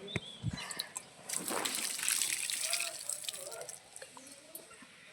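Water poured out during a village rain-making ritual, a gushing, splashing flow that swells for a few seconds and then eases, with faint voices in the background.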